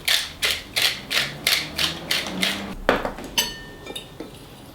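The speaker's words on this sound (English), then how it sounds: "Now we're going to mix all our dry ingredients together, including salt." Cornstarch, salt and other dry ingredients stirred together in a bowl for lumpiang sariwa wrappers, giving a run of about eight rhythmic scraping, clinking strokes in close succession, then a few lighter taps, with no talk.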